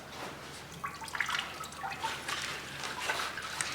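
Water is flushed through a car radiator in a garage during work on a heavily modified Firebird, making uneven splashing, gurgling and dripping that rise and fall without a break, fairly close.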